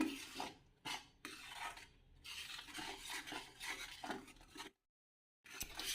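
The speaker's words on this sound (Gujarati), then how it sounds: "અને હવે આપણે જે આ મસાલો રેડી કર્યો છે ને એ આપણે એડ કરી દઈશું। હવે આપણે એને સારી રીતે મિક્સ કરી લેવાનું છે।" A spoon stirs spice mix into a sweet-and-sour lemon chutney, scraping and clinking steadily against the pot in close, repeated strokes, with a brief pause near the end before stirring resumes.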